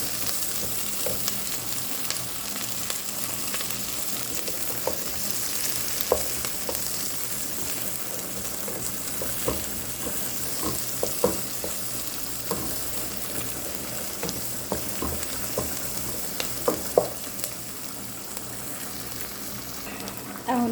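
Chili frying in a pan for cream pasta, a steady loud sizzle with scattered scraping and clinking of a spoon as it is stirred, continuous throughout with no talking.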